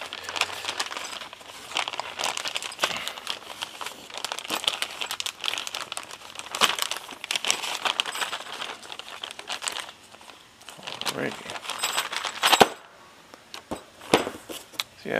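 A motorcycle mount is pulled one-handed from a plastic bag, giving close, irregular bursts of crinkling and rustling throughout with a few sharper crackles near the end.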